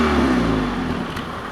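A car engine idling at 1500 rpm in cold weather gives a steady, loud low drone with a constant hum and no clear revving. No voices are heard.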